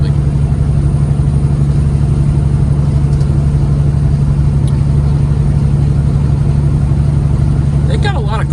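Semi truck hauling a hopper bottom trailer, its engine droning steadily at cruising speed as a loud continuous low rumble with road noise, with a few faint higher chirps near the end.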